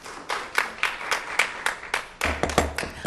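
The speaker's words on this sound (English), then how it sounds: "please refrain from applause at this time" Audience applause at a school board meeting: a small group clapping in an even, rhythmic pattern of distinct bursts, a little louder toward the end.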